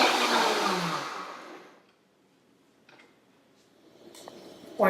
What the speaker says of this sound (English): Blend until nice and smooth.